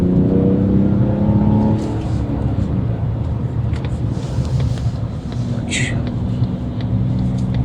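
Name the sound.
2025 Mazda CX-70 Turbo S accelerating onto the interstate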